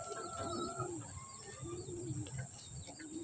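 Racing pigeons in a loft near Tacloban, Leyte, giving low, soft cooing calls that repeat throughout against a steady background hiss, with a few faint chirps mixed in and nobody speaking.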